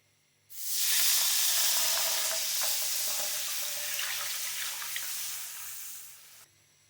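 Half a litre of milk is poured into flour roasted with butter in a hot pan for a white sauce, starting as a loud, steady sizzling hiss that gradually settles and then cuts off.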